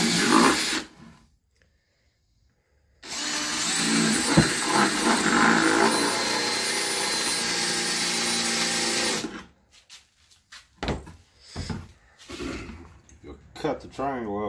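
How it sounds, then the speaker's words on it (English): A jigsaw cutting a triangle out of a plastic bucket base for a homemade poultry processing cone, one steady loud buzzing run of about six seconds, with short bursts of tool noise and thumps before and after. "He's going to cut a hole big enough to get the jigsaw in."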